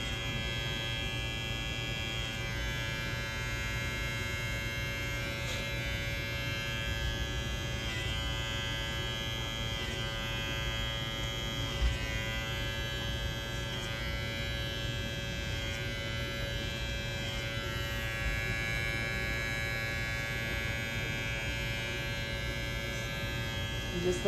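Electric hair clippers buzz steadily through a men's haircut, a constant close hum with bright harmonic overtones that runs unbroken from start to finish.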